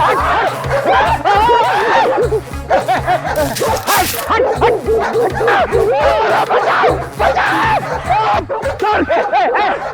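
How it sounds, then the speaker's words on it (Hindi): A fierce dog barks repeatedly and loudly amid excited people talking, laughing and shouting, with a rhythmic music bed running underneath. "ये खूंखार कुत्ता है सर"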